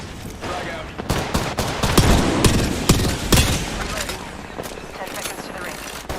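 Heavy bursts of gunfire and explosions from a battle royale video game, with loud, close, repeated rapid shots and blasts over a dense, continuous battle din, while a voice speaks underneath.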